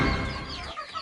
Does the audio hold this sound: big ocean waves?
no